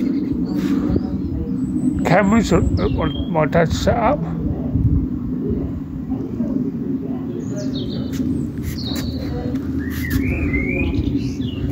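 Birds chirp and call outdoors in Ipswich against steady background noise, with short tweets scattered throughout while someone speaks nearby.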